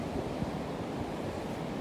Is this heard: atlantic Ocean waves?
yes